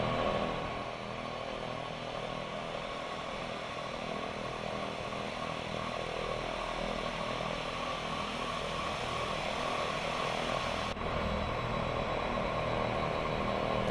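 Propeller aircraft engine at full power in the X-Plane 10 flight simulator, a steady loud droning roar with a constant low hum, running continuously without talk as the plane sits on the runway.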